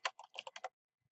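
A quick burst of about six crisp keystrokes on a computer keyboard, close and clean, while entering a date into an Excel spreadsheet cell, then silence apart from one faint soft tap.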